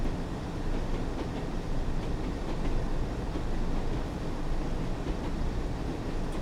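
Train wheels in Train Sim World 2 on the Tees Valley Line rumble along jointed track with a steady clickety-clack, loud and continuous, with nobody speaking over it.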